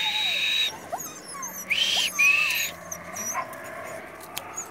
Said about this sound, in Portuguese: Olha esse cachorro.